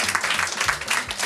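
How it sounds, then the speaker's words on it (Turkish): Audience at a quiz night breaks into a short burst of applause, a dense, even patter of many hands clapping for the whole moment with no voices over it. "Kapalı tebligatı da alkışlayalım lütfen"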